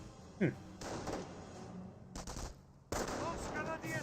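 MG42 machine gun bursts in the World War II strategy game Company of Heroes, a few short rattling volleys with a slam-like thud early on, mixed under a steady bed of battle noise and occasional talk.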